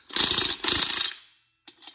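Half-inch torque wrench ratcheting wheel nuts on a 4x4: two bursts of rapid, close metallic clicking, then a short pause and a fainter third burst.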